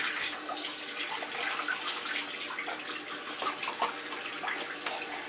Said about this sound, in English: I'll just wash my hands and then